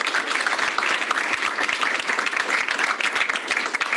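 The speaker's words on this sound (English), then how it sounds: "Round of applause." An audience at a university startup variety show claps in a dense, steady round of applause, loud and continuous throughout.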